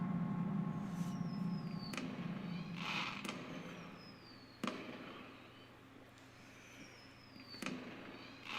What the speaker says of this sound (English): Today's the day of the big fireworks